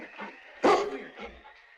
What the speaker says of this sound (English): he heard the expectant barks of Preston's onrushing team